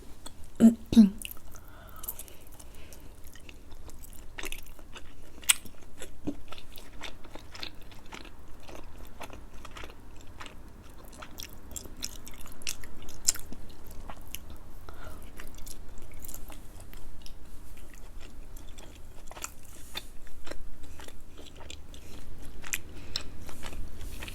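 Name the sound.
chewing chewy Khmer nom banh chok noodles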